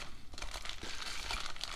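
A plastic bag holding a replacement front ball joint for a Mitsubishi Lancer Evolution is opened, giving close, steady crinkling and rustling for about two seconds with no talk.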